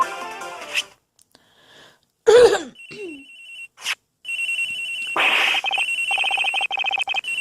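A phone rings in the Ace Attorney Investigations video game, electronic trilling tones repeating in bursts after scattered game sound effects and short blips, loud and clear with no talking.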